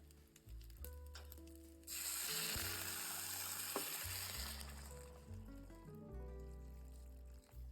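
Water poured into a hot pan of drumstick sambar with spices, a loud hissing sizzle bursting in after a quieter start and settling into steady bubbling frying with a few stirring clinks, no voices.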